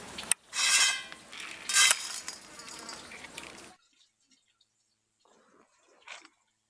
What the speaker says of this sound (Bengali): অল্প অল্প করে নিয়ে এইভাবে করে চেলে নিতে হবে